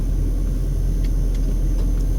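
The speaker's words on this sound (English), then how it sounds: "I'm just going to wait for the traffic here" Constant low road rumble of traffic at an East Las Vegas intersection, heard steadily from inside or near a waiting vehicle, with faint higher whooshes of vehicles passing.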